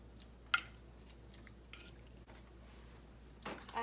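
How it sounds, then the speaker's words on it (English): Casserole ingredients for a turkey breakfast dish being mixed in a bowl, a few soft scrapes and light clinks from a utensil against the dish over a quiet background, with no talking. "Mix this up."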